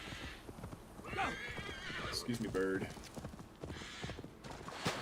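Horse hooves clopping and a whinny in Assassin's Creed Valhalla, heard under a voice as he speaks; the neigh rises briefly in the middle of the hoofbeats.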